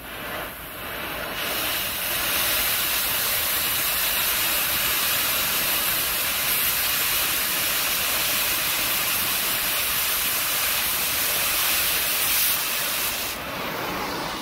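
A cutting torch roars through thick metal with a loud, steady, broadband hiss that rises after a brief start and holds for over ten seconds before easing off near the end.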